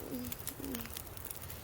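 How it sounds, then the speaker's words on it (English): In the survival game The Long Dark, a pigeon-like bird coos twice, soft low calls set against quiet wind-like ambience. "I believe that's a bird that I hear."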